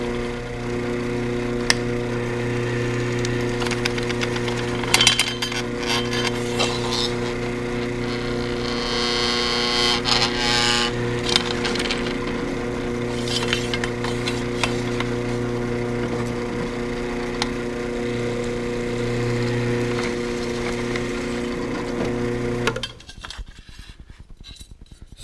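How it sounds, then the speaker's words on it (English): A drill whines steadily at close range, boring holes through metal track, with a droning tonal hum and scattered metallic clicks, then cuts off abruptly near the end. "Let's drill a couple of these"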